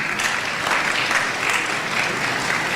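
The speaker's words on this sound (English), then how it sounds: "Please give yourselves a round of applause, please." A crowd claps loudly and continuously at a career and technical education signing day event, a dense, even burst of applause throughout.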